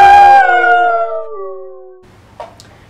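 A single long howl, several voices together imitating a wolf, starts loud and slowly fades over two seconds into quiet, with a faint bump at the end.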